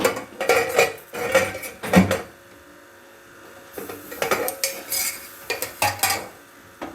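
Metal lid lifted off a pot used to bake an eggless Christmas cake, giving several clattering clinks and scrapes of metal on metal, close and fairly loud, with short quiet gaps between bursts.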